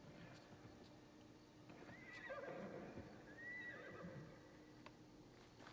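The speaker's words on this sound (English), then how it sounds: "Come here, horsey." A summoned horse whinnying and snorting in the video game Assassin's Creed Shadows, with hoofbeats clopping as it approaches, fairly quiet, and some speech mixed in.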